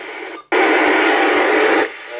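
Loud hissing static from a President Grant II Mk2 CB radio on FM, a burst of broadband white noise lasting over a second that cuts off abruptly, with a quieter hiss before and after.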